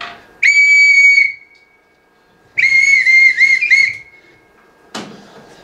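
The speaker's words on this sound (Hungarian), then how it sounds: "ha ilyen abszolút nem szép hangot szólaltatunk meg, mint ez a síp" A shrill whistle blown twice in long, steady blasts, the second slightly wavering, followed by a short thud.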